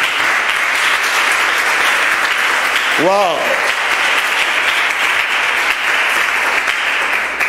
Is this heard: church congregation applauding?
yes